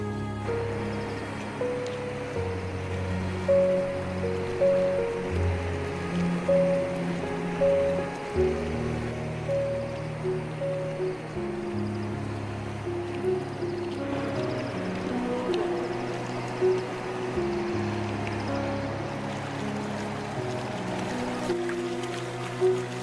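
Siang River at Pasighat in Arunachal Pradesh, swollen like a sea, rushes and washes steadily in a broad, continuous roar of water, with tonal musical notes layered faintly over it.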